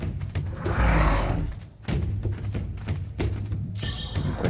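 A horse in the ARK video game gives repeated hoof thuds and clops with a whinnying neigh, loud and close, alone without talk.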